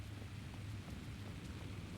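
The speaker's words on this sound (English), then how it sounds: "Back into the rain we go." Steady rainfall in the dark outdoor world of the video game Alan Wake 2, a continuous even hiss with a low rumble beneath, moderately loud and heard alone without voices.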